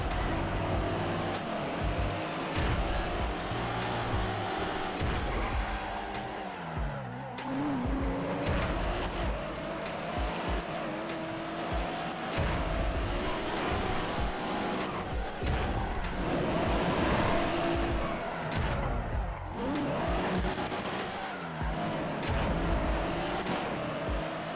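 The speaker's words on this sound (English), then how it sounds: "Oh, berisikan banget kalau pakai handbrake." A Nissan Skyline R34 handbrake-skids in the video game GTA V: a steady loud engine roar runs throughout, with tire squeals and slides that rise and fall in several swooping passes, and no talk.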